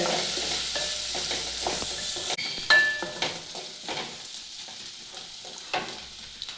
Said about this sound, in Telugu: ఆనియన్స్ బాగా సాఫ్ట్గా అయ్యే వరకు వేపుకోవాలి.